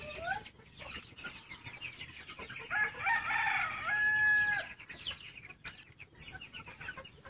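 A rooster crows once amid scattered clucking from hens nearby, with a low background of farmyard noise.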